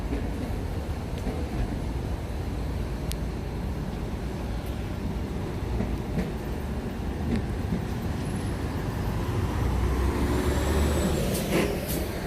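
A packed train rolls past near Nagasaki Station, a steady close rumble with rising intensity toward the end, joined by brief high squeals and clanks.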